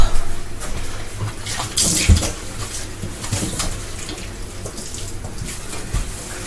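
Tap water runs steadily into a glass being filled for ice water in a home kitchen, a continuous close hiss with a few brief splashy surges, no talking.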